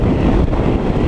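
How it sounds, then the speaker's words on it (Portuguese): Strong wind roars steadily across the microphone while riding a Honda Bros 160 motorcycle, a dense continuous rumble with no letup. "Tá ventando muito, muito, muito."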